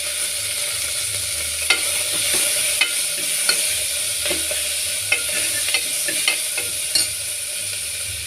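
Garlic, onion and curry leaves sautéing in oil in a pan, a bright continuous sizzle punctuated by regular light clicks of a spoon stirring, no talking.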